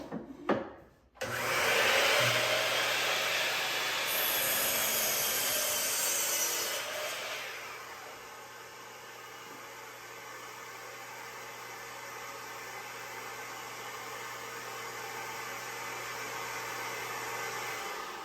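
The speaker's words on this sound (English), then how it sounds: "I start my miter saw, my shop vac will automatically turn on" A shop vac switches on automatically alongside a miter saw and rushes loudly at first, then settles into a steady, slightly quieter whooshing roar that runs alone to the end, with the saw's whine fading out after a few seconds.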